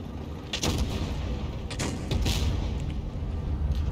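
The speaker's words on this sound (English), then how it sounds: "Nice shot into that tank." Tank cannon fire from a Jagdpanzer E 100 tank destroyer in World of Tanks Blitz, with several sharp booming shots at irregular intervals over a steady rumbling battle ambience.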